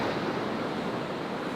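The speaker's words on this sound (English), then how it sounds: "Look at this beautiful ocean right here. That's the Tasman Sea" Tasman Sea surf off the Australian coast gives a dense, even roar of waves with wind buffeting mixed in, loud and unbroken throughout, with no voices.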